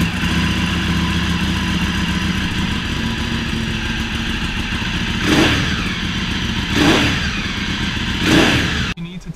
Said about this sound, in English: Turn on the bike and see how it sounds with it